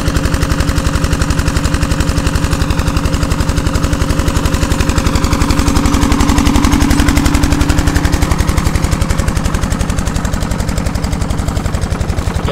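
A farm tractor engine powers a water pump, drawing water from a dried canal-bed pond through a long flexible pipe into a rice field. It thumps loud and steady in a fast, even rhythm throughout, with no voices.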